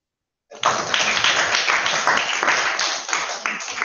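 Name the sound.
children applauding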